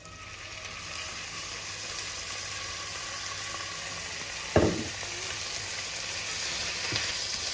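Beef sizzling in a pan after a splash of cider vinegar for beef lyonnaise, a steady close hiss with a sharp clatter midway and a faint knock near the end.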